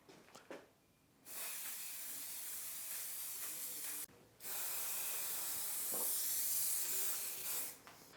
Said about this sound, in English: one last light coat of anti-rust or anti-speckle